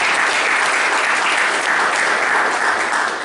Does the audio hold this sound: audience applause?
yes